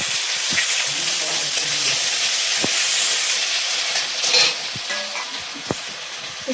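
Chopped onion fries in oil with five-spice seeds and ginger-garlic paste, producing a continuous crackling sizzle and steamy hiss, dotted with a few sharp clicks from the pan.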